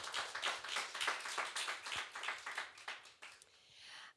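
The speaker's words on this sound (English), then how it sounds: "Maybe, yeah, we can give another applause." An audience at a live music night claps for a solo performer with a fairly quiet patter of hand claps that rises and dips, then trails off near the end.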